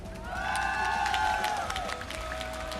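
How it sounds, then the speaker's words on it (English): An audience at an esports match applauds and cheers, a steady wash of clapping and crowd noise with a whistle-like tonal sweep rising above it midway. "Round of applause everybody."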